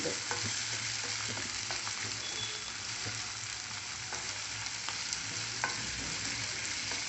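Pineapple pieces for gojju fry gently in a pan with a soft continuous sizzle and occasional scrapes from stirring, faint and steady with no talking.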